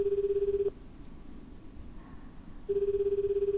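A phone ringback tone from the Wii horror game Calling sounds in two steady pulsing bursts, one at the start and one at the end, with a quiet gap between them.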